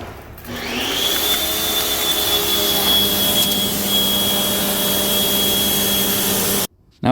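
A pressure washer runs on a very dirty manual BMW wagon at a detail shop. Its motor whines and hisses steadily and up close for about six seconds before stopping abruptly.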